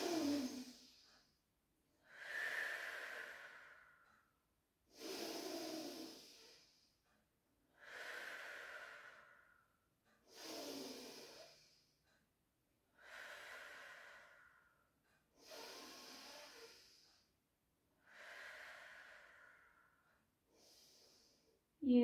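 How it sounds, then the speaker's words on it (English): Slow, deep breaths during a supine spine stretch in a barre and pilates workout, about eight long airy inhale-exhale cycles at an even rhythm, close and fairly quiet with no talking. "Take a breath in."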